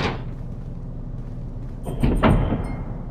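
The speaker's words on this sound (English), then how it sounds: "I did not win, but I opened the door." Door opening in the video game Endless Doors, with a short, muffled thud and scrape heard alone over a steady low hum.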